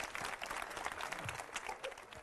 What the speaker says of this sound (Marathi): चला टाळ्या वाजवून शुभेच्छा